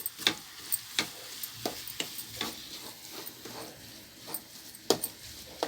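Grated fresh coconut frying on low heat while being stirred in a pan, with a soft steady sizzle and repeated light scraping strokes, fairly faint and alone with no talk.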